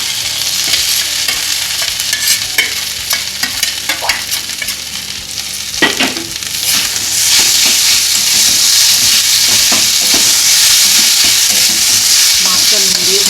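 A fish fritter mixture of fish, ginger-garlic paste, green chilli and raisins sizzles in hot oil, loud and close. Scraping stir strokes and clinks come through the first half, and a dense, even frying hiss fills the rest.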